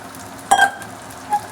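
Washed chicken dropped into a hot kadai gives a short burst of sizzling with a clink, then a quiet low fry and a second small hiss.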